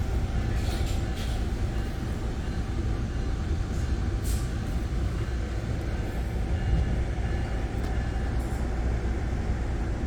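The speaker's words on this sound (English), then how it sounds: "this being the Saint-Jérôme Line, a lot of folks that, you know, come to school here or work in Montreal and live in the suburbs north of here, this is a very popular train route" Steady low rumble of an exo commuter train on the Saint-Jérôme Line in Montreal, heard from inside the moving car, with continuous rolling wheel noise and a few brief high squeals or hisses from the rails and brakes.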